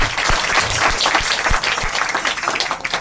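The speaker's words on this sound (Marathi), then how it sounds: "बालगोपालांसाठी एकदा टाळ्या होऊ द्या बरं का" An audience at a Swami Samarth devotional gathering applauds the children who led the chanting, with steady, dense clapping across the whole span and a few louder individual claps standing out near the front.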